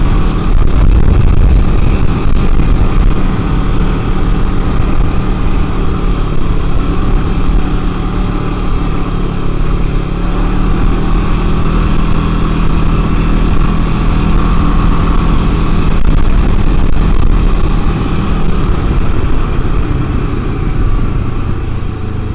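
A Can-Am Ryker three-wheeled motorcycle fitted with billet sway bar end links drones loudly and continuously while riding, engine and wind noise steady throughout with no talking.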